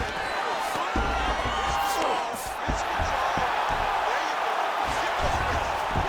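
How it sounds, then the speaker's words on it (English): Arena crowd in the EA Sports UFC 5 fighting game roaring and cheering as Curtis Blaydes and Don Frye return to their feet after a grappling exchange, a dense sustained swell with thuds and commentary talk over it. "big pop from the crowd as they get back to their feet"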